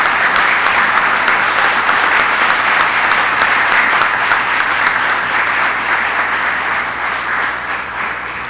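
Strong, sustained audience applause at the close of a panel discussion, filling the space loudly and tapering only slightly toward the end.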